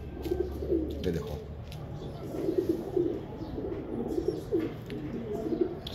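A pigeon recovering from an operation on a large lump gives soft, repeated throaty coos in a steady rhythm, close by over a low background hum.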